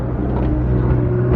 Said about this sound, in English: M6 going by.